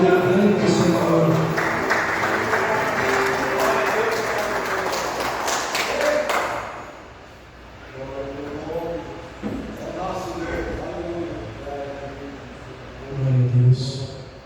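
Church congregation clapping during a worship service, a sustained loud round of applause that stops abruptly, followed by someone speaking over a quieter room.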